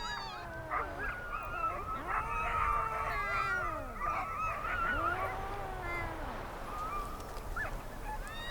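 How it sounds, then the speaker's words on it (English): Sled dog puppies whimper and cry with rising, bending whines over and over at feeding time, close by and fairly loud, with no one talking. "When it's feeding time, only one of the pups manages to nurse."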